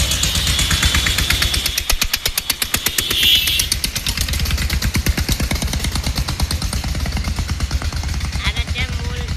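An old engine pulling two carriages in a sugarcane-growing village chugs with rapid, steady pulsing beats, loud and close, running continuously with a brief surge partway through.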